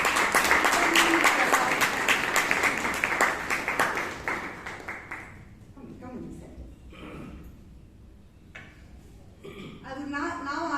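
An audience at a Bangalore Toastmasters meeting claps loudly to welcome a speaker onto the stage, a thick burst of applause for about five seconds that tapers off into scattered claps and a voice beginning to speak.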